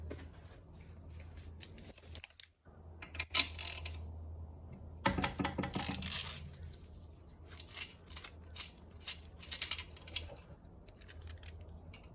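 Torque wrench tightening bolts on a Tremec 6-speed transmission after stripped threads were repaired with helicoils. A few sharp clicks and ratcheting ticks stand out in a quiet garage, with shuffling handling noise between them and no talk.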